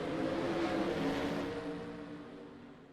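Race cars in a video game take the green flag at Nashville Fairgrounds, a blended whine of engines that rises in a loud surge and then fades away.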